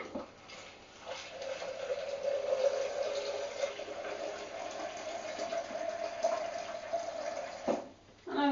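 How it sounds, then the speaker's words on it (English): About half a litre of water pours steadily into a container for a smoothie. The flow is a continuous, fairly quiet gushing that runs for around seven seconds, then stops abruptly near the end. "And add about half a litre of water."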